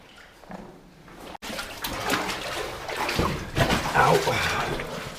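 Wading steps slosh and splash through water in a flooded underground fort tunnel, with a continuous churning wash that grows louder and busier as the walker moves. Faint voices are mixed in.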